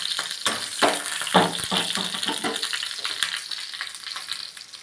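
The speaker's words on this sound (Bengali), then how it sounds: "এই দেখো আমি তোমার পাঁচফোড়ন সম্বাদ দিলাম" Panch phoron spices hitting hot oil and sizzling, with a burst of sharp crackles and pops near the start that settle into a steady, fairly loud fry with no talking.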